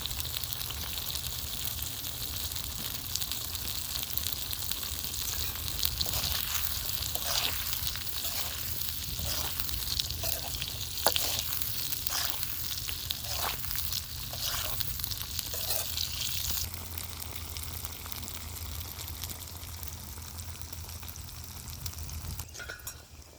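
Moringa drumsticks sizzle steadily as they fry in a hot pan for a village-style dried fish curry, with a spoon scraping and stirring through the oil in short repeated strokes, close and continuous without any voices.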